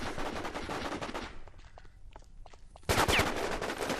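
Automatic gunfire in the video game War Inc. Battlezone: rapid loud bursts fill the opening stretch, fade to scattered faint shots in a brief lull, then a dense, louder volley bursts back in near the end.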